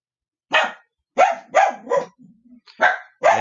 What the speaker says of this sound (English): that's Max and Lolly barking for you